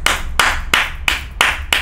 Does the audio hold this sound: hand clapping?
yes